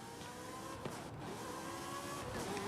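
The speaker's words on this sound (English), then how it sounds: "These Ferraris sound really mean." A Ferrari engine in Forza Horizon 5 holds a steady, loud, dense drone with a rising tone, sustained throughout and with no speech.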